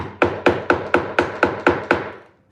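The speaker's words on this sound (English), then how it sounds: "then I'll just give a little hammer down so it's not sharp" Eight evenly spaced hammer blows on a twisted-off nail, flattening it flush in an old wooden door being made into a coffee table; sharp, close, ringing strikes in a steady rhythm that then stop.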